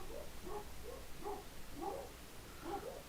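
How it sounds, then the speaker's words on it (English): Household dogs yip and whimper faintly in the background, a string of short, high calls repeating roughly every half second, quiet and distant with no talk over them. "Sorry if you hear my dogs."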